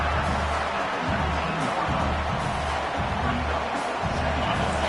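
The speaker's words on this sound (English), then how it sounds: "this crowd is turning it up a notch" Football stadium crowd noise, a steady broad roar that holds loud and constant throughout with low rumbling swells underneath, no single voice standing out.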